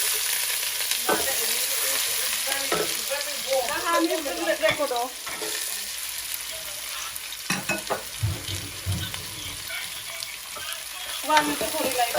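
Onions frying in a pan for white pilau, a steady sizzle with scraping stirs and clattering utensil strokes throughout, fairly close and loud, with no talking.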